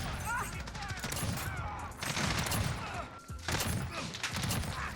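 Rapid bursts of MK2 Carbine fire in a video game, with a muzzle brake fitted, crackle in dense clusters across the whole stretch, loud and near with short dips between volleys.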